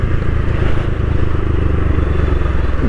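A motorcycle being ridden on a short ride, its tyre losing air quickly, with steady loud engine and road noise throughout, close and continuous with no talk.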